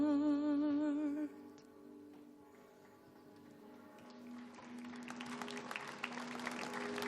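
Applause from a crowd builds after a sung note ends, many hands clapping steadily and growing louder toward the end.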